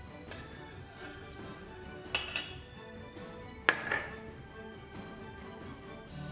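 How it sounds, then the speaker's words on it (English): Kitchen clatter of a utensil clinking against a pot while stirring maple syrup, with a couple of sharper knocks amid a low steady background hum. "add in your maple syrup and stir until completely dissolved."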